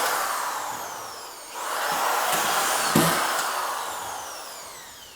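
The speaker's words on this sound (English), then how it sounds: "You just saw the last 2 screws go in." A power driver sends screws into Warmboard radiant floor heating panels, a loud, near whirring drive that rises and falls in two long bursts with a brief dip between them.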